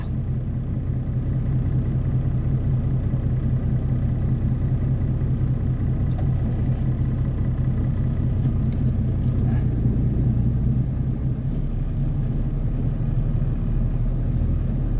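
Trucks roll into a dirt work site where excavators load, a steady low engine rumble and drone of heavy vehicles moderately close, continuous throughout with faint background voices.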